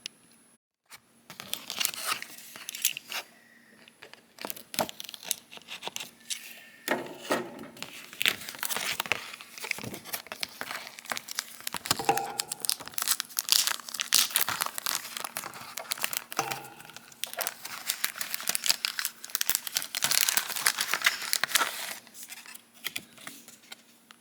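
Plastic packaging and card crinkling, tearing and rustling as it is pulled off an S.H. Figuarts Wargreymon figure box, with busy irregular bursts of close crackle continuing throughout.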